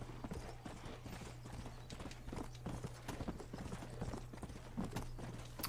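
Horse hooves clip-clop in a steady walking rhythm in the Western video game Red Dead Redemption, a close and clear clatter over a low constant hum.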